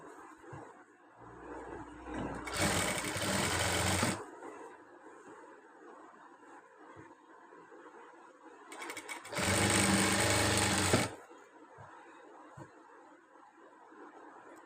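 A sewing machine stitches a churidar in two loud, steady bursts of about one and a half seconds each, separated by a quieter stretch of handling and faint room noise.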